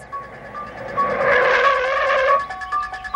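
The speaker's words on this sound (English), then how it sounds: "Watch how he hit the brakes." A car brakes hard and its tires skid and squeal for about a second and a half. The squeal is loud and close, with engine noise before and after it.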